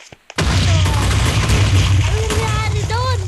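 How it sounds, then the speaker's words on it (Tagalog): A house exploding in a sudden loud boom that rolls into a sustained roaring, crackling rumble, with a voice calling out over the blast. "bakit sumabog yung bahay ko?"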